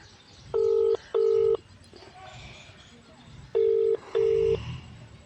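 Four loud, steady phone keypad tones sound as a number is dialed, in two pairs separated by a pause, over quiet background murmur.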